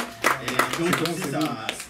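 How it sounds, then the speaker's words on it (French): A few scattered claps for a rapper sound in a radio studio, sharp hand strikes mostly under a voice speaking over them. "Applaudissements, les amis."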